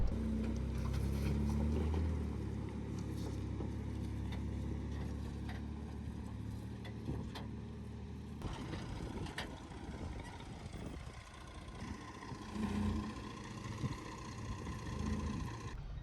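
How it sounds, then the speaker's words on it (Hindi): A tractor with trolley passes on a steep mountain jeep track in the Talu Brooq valley near Skardu, its engine a loud, steady rumble near the start that fades and shifts midway, with lighter engine noise continuing. "उसके पास से एक ट्रैक्टर ट्राली नीचे आ रहा है"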